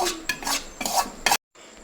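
Gram flour is stirred and roasted with ghee in a pan for laddoos, giving rhythmic scraping strokes of a spoon against metal, about five close scrapes before a brief silence.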